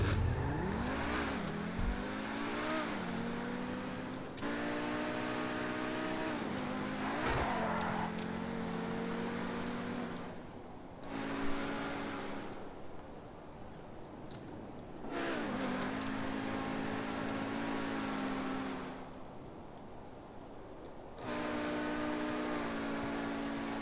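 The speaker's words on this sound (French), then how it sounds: "Lamborghini Huracan, les gars. Version GTA." A Pegassi Lamborghini Huracan in GTA V revs its engine repeatedly, rising and falling in loud, close bursts with short gaps between pulls and shifting pitch as it accelerates.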